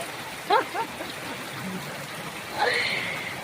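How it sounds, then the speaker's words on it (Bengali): Heavy rain pours steadily onto a tin-roofed house whose flooded rooms are taking in water, a continuous hiss running throughout with a few brief voices over it. "এত বৃষ্টি হচ্ছে ঘরে জল ঢুকে গেছে"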